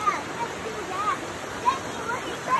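Water rushing steadily, like a small waterfall or stream, with brief chirpy tones rising over the wash.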